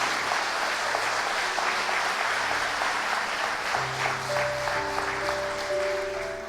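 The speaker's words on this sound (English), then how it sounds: "Give them a round of applause, please" Audience applause at a motivational speaking event, a sustained wash of clapping from a large crowd with a faint tonal hum underneath, steady from start to finish.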